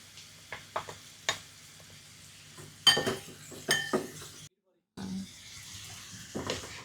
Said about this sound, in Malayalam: ഇനി നമുക്ക് ഇതിലേക്ക് കുറച്ച് ഗാർലിക് ചേർത്ത് കൊടുക്കാം കേട്ടോ